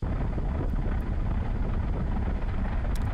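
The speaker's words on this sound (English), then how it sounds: "This wind turbine couldn't handle the recent windy conditions in the UK." A wind turbine in the UK straining in strong, gusty wind, heard as a loud, continuous low roar and buffeting rumble, with heavy wind noise on the microphone and no speech.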